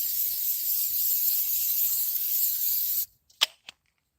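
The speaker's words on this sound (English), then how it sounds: "Get a little butter spray up on that beaver." Butter-flavored cooking spray hisses steadily from a can onto breakfast food at a car campsite for about three seconds, then stops, followed by a few short sharp clicks and taps of the nozzle.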